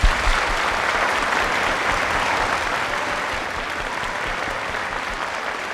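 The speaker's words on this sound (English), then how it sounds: "let's give these ladies and gentlemen a round of applause." Loud sustained applause from schoolchildren and adults at a primary school Veterans Day celebration, a dense steady clapping that fades slightly toward the end.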